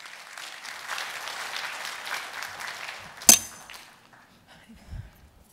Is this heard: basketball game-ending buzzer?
no